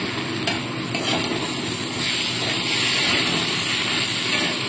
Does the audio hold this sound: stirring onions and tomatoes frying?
yes